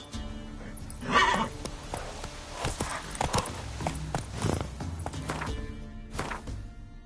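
A horse in The Witcher 3 game gallops with rhythmic hoof clops and a whinny close by, with thuds mixed into the steady beat.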